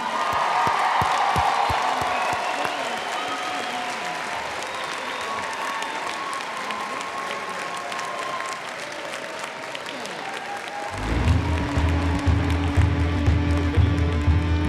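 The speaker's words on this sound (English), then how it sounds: "One really big round of applause" Big round of applause from a graduating class and audience at a college commencement ceremony, with cheers and whoops over sustained clapping before a loud amplified voice and booming music take over.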